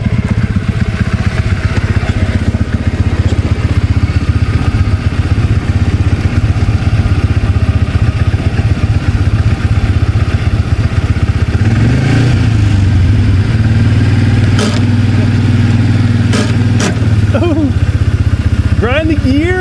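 A vehicle engine on a rural trail drones loudly and steadily, then revs up with rising and falling pitch as gears grind, with voices talking over it near the end.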